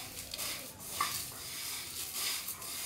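Rice is mixed with other ingredients in a bowl while making Kerala-style murukulu, giving faint, soft stirring and scraping with light clinks against the dish.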